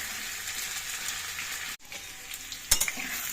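Potatoes fry in hot oil until reddish-brown, a continuous near sizzle that cuts out abruptly for an instant, then resumes with a sharp utensil clink.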